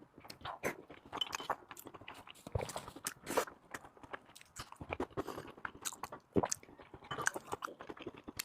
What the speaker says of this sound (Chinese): 这肉配蒜吃真的都香了